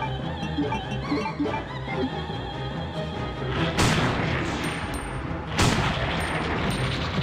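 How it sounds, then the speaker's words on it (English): A magnum fires in Resident Evil 2, two heavy booming shots a couple of seconds apart over a dense, rumbling backdrop of game combat sound. "just unloading him with the magnum"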